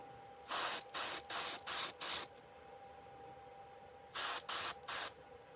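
Short hissing bursts of spray paint lightly dusting over a fishing lure stencil, five quick even pulses, a pause, then three more, close and clean with no voices.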